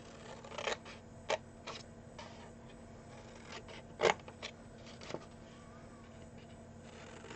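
Scissors trimming paper for a chocolate gift box: a handful of sharp, close snips spaced irregularly, separated by quiet pauses with faint rustling of paper.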